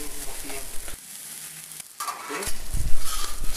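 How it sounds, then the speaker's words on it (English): Chicharron pieces frying alongside pressed gorditas on a hot griddle: loud, steady close sizzle with scraping and stirring clatter, briefly dipping before crackling back up. "Okay, it's almost done, so I just put the meat on it"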